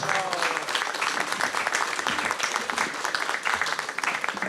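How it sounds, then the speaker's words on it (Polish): An audience at an anniversary celebration for a credit union branch in Maspeth applauds, a dense sustained wash of clapping hands lasting the whole stretch, fairly close and even. "wielkie oklaski dla pani Małgosi"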